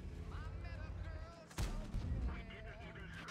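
Artillery shot in World of Tanks: a sudden heavy boom lands midway and rumbles briefly, with game noise and a speaking voice around it.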